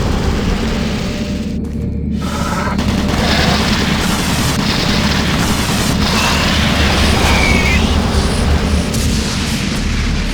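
Automated turret guns firing in Doom 3, a relentless loud rumbling barrage of rapid gunfire and booms running continuously throughout.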